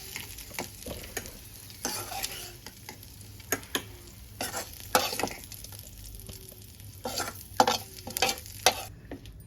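Cumin and other ingredients fry in a pan for tomato chutney, giving a steady sizzle broken by repeated scraping, stirring strokes up close.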